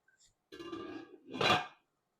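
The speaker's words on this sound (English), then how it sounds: "Now cover up with the lid." A lid set onto a cooking pot of cabbage soup: a short metallic scrape and clatter, then a brighter clink as it settles, close and alone in quiet surroundings.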